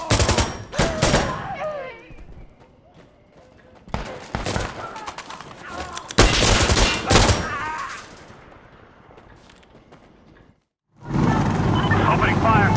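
Rapid automatic gunfire from the video game Insurgency Sandstorm on a night map, loud bursts with shots rattling off in quick strings, broken by short pauses and mixed with voices talking over the action.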